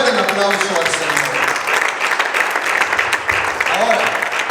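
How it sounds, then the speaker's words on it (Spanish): Churchgoers at a preaching service break into loud applause, a close, sustained burst of clapping with cheering voices and shouts mixed in throughout. "Fuerte el aplauso al Señor."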